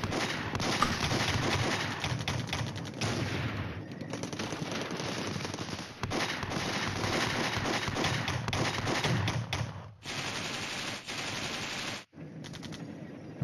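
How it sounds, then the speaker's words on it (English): Sniper fire in the wargame Flashpoint Campaigns: Red Storm, heard as a dense, continuous crackle of gunfire and sharp rapid reports over a constant battle din, broken by a few brief drops near the end. "Sniper fire."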